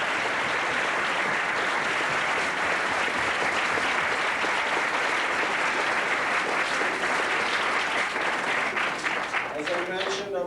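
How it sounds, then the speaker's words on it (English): A crowd at the 1988 Jessup International Law Moot Court World Championship gives the panel sustained applause, a dense, loud, even roar of many hands that runs the whole stretch and tapers slightly at the end. "I think they deserve a fine round of applause"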